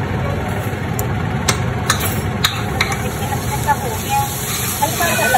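Garlic and ginger lightly fry in oil for chicken Manchurian, a steady sizzle and hiss with a few clinks of stirring, under a voice speaking.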